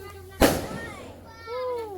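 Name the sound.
fireworks going off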